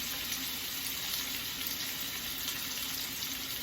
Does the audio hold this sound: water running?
yes